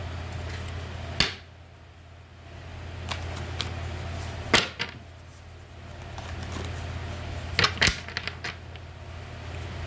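Tarot cards, a Goddess Tarot deck, shuffle in a few sharp riffling bursts separated by quieter stretches, over a steady low hum.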